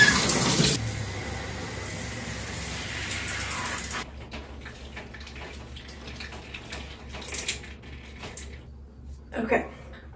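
Tap water gushes loudly for about a second as hair is wetted before a haircut, then drops to quieter splashing and handling sounds with a few louder bursts near the end; no talk is heard.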